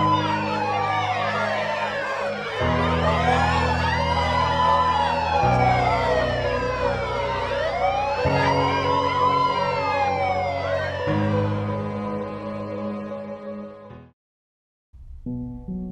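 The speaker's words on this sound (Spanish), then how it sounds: "A pocas horas del comienzo, las sirenas se hicieron escuchar." Police sirens wail loudly in overlapping rising and falling sweeps, several cycles in a row, then cut off abruptly near the end, followed by a short burst of tones.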